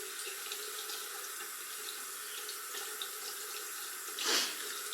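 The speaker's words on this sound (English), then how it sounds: "So my face is already wet, but I'm gonna wet it a little bit more." A bathroom sink tap runs continuously while someone wets their face, giving a steady close hiss of flowing water with a brief splash near the end.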